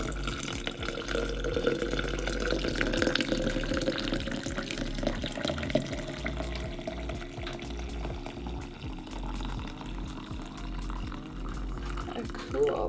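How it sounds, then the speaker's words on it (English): Brewed coffee poured over yarn and fabric swatches in a container for natural dyeing, giving a steady splashing, trickling flow of liquid that runs throughout at moderate volume. "I'm just gonna put those right in and then pour that coffee over it."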